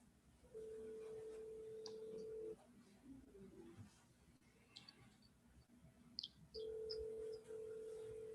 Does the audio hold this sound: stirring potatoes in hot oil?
no